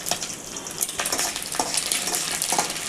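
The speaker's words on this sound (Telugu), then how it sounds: "దాన్ని ఇలా పక్కన పెట్టుకొని వెల్లుల్లిపాయలు అల్లం ముక్కలు వేసి వేయించుకోవాలి." Garlic and ginger pieces sizzle steadily in hot oil in a pan, a continuous bright crackle with a few louder spattering bursts across the short stretch, heard up close with no talking.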